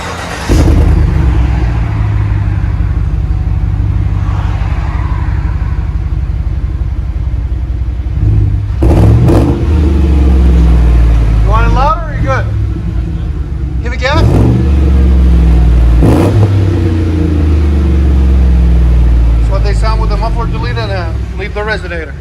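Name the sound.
Chevy Tahoe 5.3L V8 revving, 3-inch pipe with 4-inch tip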